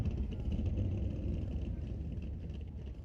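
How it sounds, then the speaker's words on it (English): A low, steady engine rumble from drag racing cars pulling into the burnout box at an old-time drag meet drones on without a break, somewhat distant, with no talking. "Couple drag cars are fired up and pulling into the burnout box"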